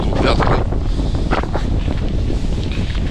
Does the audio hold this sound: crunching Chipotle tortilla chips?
no